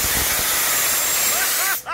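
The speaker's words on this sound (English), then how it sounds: "So let's see what happens when we open the valve." Compressed air blasts loudly from an opened valve on an air compressor, a sustained broadband hiss that fills the clip before cutting off abruptly near the end, followed by a voice.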